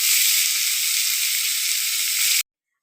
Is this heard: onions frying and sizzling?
yes